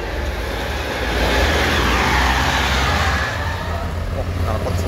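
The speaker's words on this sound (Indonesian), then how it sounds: "Oh, knalpot swos." Loud, steady roar of a large intercity coach running on the road with a modified free-flowing exhaust, a continuous low rumble that swells slightly in the middle with no clear talk.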